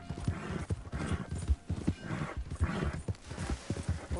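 Horse hooves in a PS4 video game clip-clop at a steady walking rhythm, close by and moderately loud, with regular paired beats throughout.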